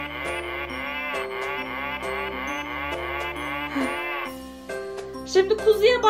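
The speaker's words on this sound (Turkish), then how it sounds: "O bir inek sesi Erdem." An electronic toy plays a cow mooing, a long drawn-out moo repeated in steady pulses, followed by brief toy tones near the end.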